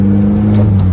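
A K24 engine swapped into a Nissan Cefiro drift car runs at high revs, producing a loud, close, sustained engine drone with strong harmonic tones over one second.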